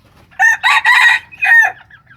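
A rooster crows loud and close, a farm breeding cock of jungle-fowl type with black legs; several bursts of a harsh cock-a-doodle-doo call followed by softer trailing notes, with no talk.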